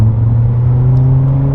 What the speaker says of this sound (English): So higher RPM, even with valve closed, you end up hearing some of that nice exhaust